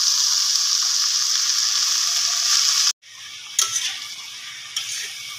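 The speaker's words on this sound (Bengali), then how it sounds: "এবার লাল শাকটা দিয়ে ভালোভাবে মিক্স করা হচ্ছে, মানে লাল শাকটা ভাজা হচ্ছে।" Red amaranth greens frying in mustard oil with green chili and nigella seeds, a steady loud sizzle that breaks off abruptly, then resumes softer with occasional scraping clinks of stirring.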